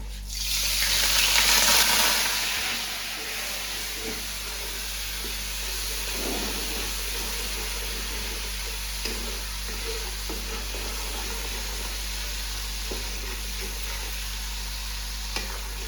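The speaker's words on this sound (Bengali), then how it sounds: "দিয়ে আমি একটু জল দিয়ে কষে নেব।" A spice paste of chilli powder and Kashmiri chilli powder sautés with a little water in a pan for fish masala. A steady hiss and sizzle runs throughout, with a louder burst at the start and faint stirring scrapes, and no voices.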